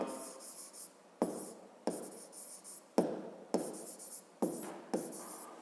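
A pen writes numbers on paper in short, close scratchy strokes, each group beginning with a tap and separated by brief pauses, faint and with no talking.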